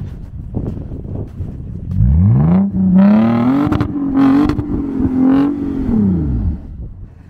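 A Toyota FJ Cruiser on 37-inch tires, stuck in snow on its frame rails with the locker engaged, revs up in one long rising then falling engine drone that holds steady for several seconds before dropping away.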